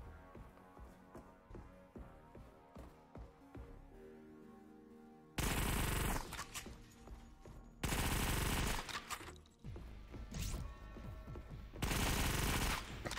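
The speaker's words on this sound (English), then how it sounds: "my own grenade scared the crap out of me" Cluster grenade detonations in the Sweet Surrender VR shooter, heavy repeated explosive blasts in several loud bursts, with clicky gameplay sounds and rattling gunfire between them.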